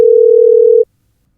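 A steady telephone dial tone sounds loud and alone for under a second as a call is connected, then cuts off abruptly into silence.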